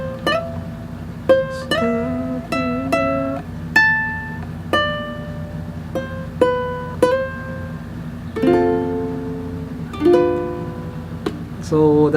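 A ukulele played fingerstyle through the first verse of a song, with clear plucked single notes and ringing chords in an unhurried melody, close and even over a faint steady hum.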